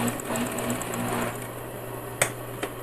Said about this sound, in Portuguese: Então eu passei aqui o viés, costurei ele aqui